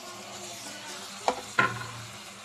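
Ginger, garlic and tomatoes sautéing in oil make a faint, quiet sizzle, broken by two brief stirring scrapes close by near the middle.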